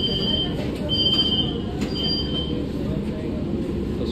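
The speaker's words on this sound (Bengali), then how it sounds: "নোয়াপাড়া নিচে আছে মেট্রো। চলো মেট্রো দাঁড়িয়ে আছে" A Kolkata metro train stands at an underground station platform, its low steady rumble and hum filling the space, with faint high electrical tones and soft clicks above it.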